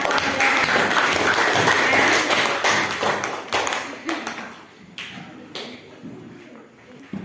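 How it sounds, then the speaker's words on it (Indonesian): A classroom applauds a student group: dense, loud clapping from many hands that gradually thins and fades, ending in a few scattered claps and taps. "kita kasih aplaus dulu untuk kelompok 1"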